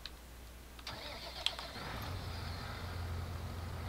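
An MT685D tractor engine cranks and catches inside a shed, a few sharp clicks and a whine giving way to a low, steady idle that grows slightly louder, fairly distant and without talk.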